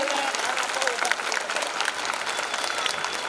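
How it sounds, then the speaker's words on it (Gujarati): An audience claps in dense, sustained applause at a children's school event, an even wash of many hands with crowd murmur underneath. "જોરદાર તાળીઓથી વધાવી દઈએ"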